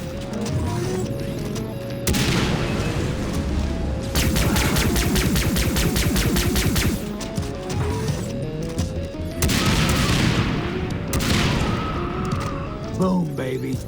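Explosions and gunfire in the video game Far Cry 3 Blood Dragon, a loud, continuous barrage of blasts and crashes over a pulsing synth soundtrack, with sharp bursts returning in waves throughout.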